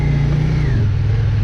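A Yamaha XV535 Virago motorcycle runs under way with a loud, close, steady low engine drone whose pitch eases slightly as the revs settle.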